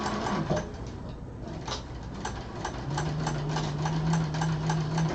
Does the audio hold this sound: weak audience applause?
no